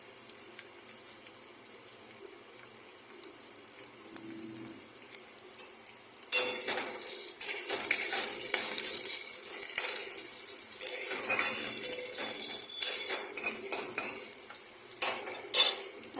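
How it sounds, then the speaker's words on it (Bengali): Chopped onions go into a hot pan of oil with whole mustard seeds, dried chilli and curry leaves for suji upma. A quiet sizzle swells abruptly into loud, steady frying, with spoon scraping and stirring throughout. "এবারে আমি এর মধ্যে পেঁয়াজগুলো দিয়ে দেবো।"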